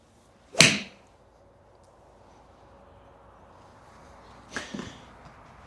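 A PING G440 iron strikes a golf ball with a sharp, clicky crack. A second, softer impact comes about four seconds later against a quiet background.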